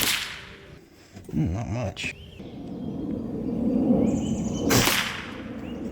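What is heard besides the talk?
FX Airguns DRS PCP air rifle firing pellets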